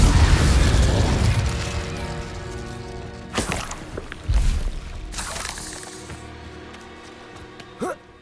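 In Hogwarts Legacy, the Incendio fire spell opens with a loud roaring flame burst that slowly fades, followed by a few clanking hits and thuds and a final sharp pop, over a faint musical drone.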